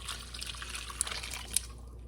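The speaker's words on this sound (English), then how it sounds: "I'm gonna pour this through my strainer so I can get all of those solids out" Liquid poured through a mesh strainer into a big bowl, straining solids out of a homemade stock with celery scraps; a steady, faint trickle with a couple of brief drips, close by and with no talk.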